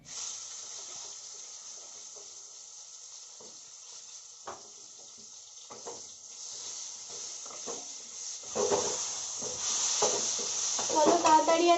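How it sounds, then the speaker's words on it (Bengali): Pointed gourd frying in oil in a home kitchen gives a quiet, crackly sizzle with occasional stirring scrapes. The sound grows louder and busier toward the end, with no voices. "পটলটা ভাজতে দিয়ে দিয়েছি"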